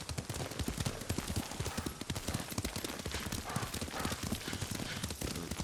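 Rapid, steady hoofbeats of a galloping horse in the video game Ghost of Tsushima, loud and close, drumming continuously throughout with a dense rumbling background.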